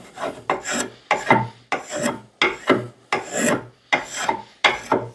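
Stanley Model 51 spokeshave shaving a warped, cracked old wooden handle, with about nine rasping strokes in a steady rhythm, each stroke close and fairly loud, and no talking.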